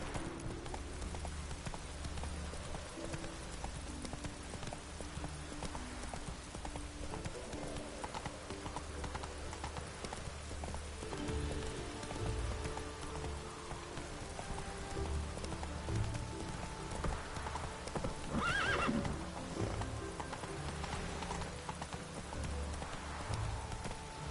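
Roach the horse gallops in The Witcher 3, a steady clip-clop of hooves running through the whole stretch, with rain pattering underneath and game music and ambience layered around it.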